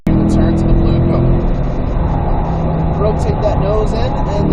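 A car accelerates out of a turn on a cone-marked driving course during a ride-along lesson, its engine a steady close drone that stays loud throughout with no talk over it.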